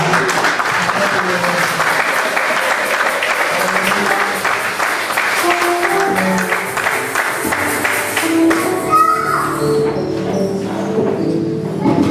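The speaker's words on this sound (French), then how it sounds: "Est-ce qu'on peut acclamer le Seigneur?" A church congregation applauds and cheers continuously during a French-language worship service, the clapping dense and sustained before thinning out near the end, with voices mixed in.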